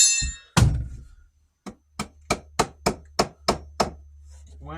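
Hammer blows driving wood blocking into wall studs during a drywall repair: a couple of initial knocks, then about eight steady, evenly spaced thunks, close and solid, with no talk.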